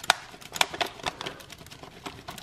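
A knife cuts through a roasted vegetable pizza on a traditional crust, making a series of sharp, crisp crunches and clicks in uneven bursts, heard up close with no talking.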